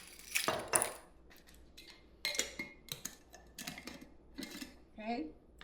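A spoon scraping and clinking against a bowl while mixing pecan pie filling, a string of irregular metallic taps and scrapes heard up close, with a voice speaking briefly near the end.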